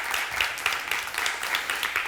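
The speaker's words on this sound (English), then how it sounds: "Give a round of applause for all these wonderful candidates" An audience at an Atlanta small business candidate forum claps for the candidates, a brisk, steady wash of applause with scattered sharper individual claps, moderately loud and continuous.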